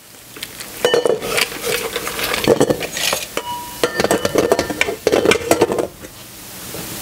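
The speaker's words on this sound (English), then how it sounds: "now I'm going to mix a block of cream cheese. I'm going to cream it." A block of room-temperature softened cream cheese is being creamed in a bowl, with busy clattering and scraping of a utensil against the dish in loud, irregular bursts and brief pauses.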